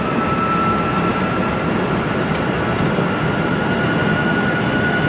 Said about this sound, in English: Steady state throttle, like I said, lots of motor noise.